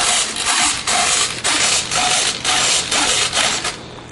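Servo on an RC P-51 Mustang warbird model driving the aileron during a radio check, heard as a run of loud, even buzzing whirs in repeated back-and-forth bursts, close up with no talking.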